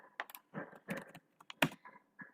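Computer keyboard typing up close, with short irregular bursts of key clicks and brief gaps between them, quiet and alone with no talking.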